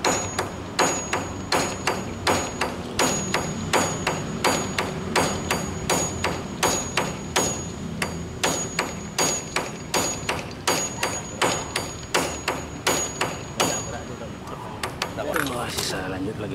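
A hammer repeatedly strikes a dynabolt eye nut anchor being set for a hanging scaffold ladder, a steady run of sharp metallic blows at roughly one per second, loud and close, continuing for about fifteen seconds.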